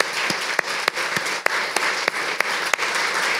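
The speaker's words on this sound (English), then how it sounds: "we could just clap it up for Keisha here" Audience applause after a talk in a library event hall, a steady dense wash of clapping with a few sharper individual claps standing out, no speech over it.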